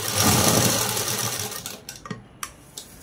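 A sewing machine runs steadily while stitching the neck of a readymade dress, loud and continuous for about a second and a half, then easing into a few short separate bursts.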